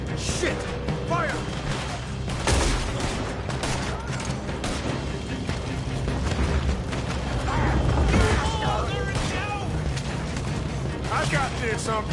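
Gunfire in a video game shootout, rapid and continuous over a busy mix of mechanical clatter and creaks, with voices talking over the shooting the whole time.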